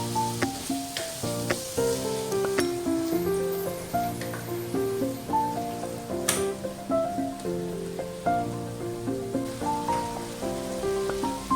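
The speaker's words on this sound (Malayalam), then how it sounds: "ഇതിന് ശേഷം 1 ടേബിൾ സ്പൂൺ വൈറ്റ് വിനീഗർ ഇതിലേക്ക് ഇട്ട് കൊടുക്കാം" A tablespoon of white vinegar goes into a sizzling pan of American chopsuey sauce vegetables, giving a soft steady frying hiss with light stirring, under continuous tonal background music.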